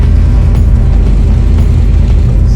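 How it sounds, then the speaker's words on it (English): A 1986 Mustang GT drives with an exhaust leak, giving a loud, steady low rumble with a rapid puttering pulse, heard close from inside the car. "Well, the exhaust leak is annoying."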